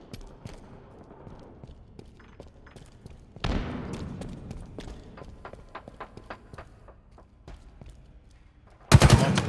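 Gunfire in the shooter game Halo Infinite: scattered close shots and short bursts over quieter footsteps, with a sharp heavy blast near the end.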